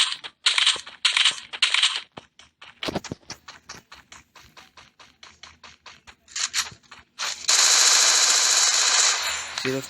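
Rapid bursts of MP40 submachine gun fire in the Free Fire battle royale game, several clusters of quick shots with short pauses, ending in a sustained loud burst of game effects.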